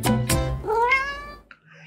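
A cat meows loudly and close, two short calls and then a longer rising, wavering meow, heard during a reaction to a music video.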